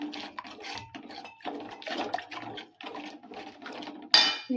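A spoon stirs jhunka vada batter in a metal pan in North Karnataka style, making a steady run of rhythmic scraping strokes up close, with one sharper metallic clank near the end.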